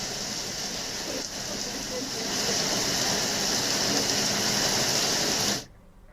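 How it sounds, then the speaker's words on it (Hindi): Monsoon rain pours steadily in Bihar, a dense continuous hiss that swells louder partway through before cutting off abruptly near the end. "ये बारिश किसानों को भी राहत पहुंचाने वाली है।"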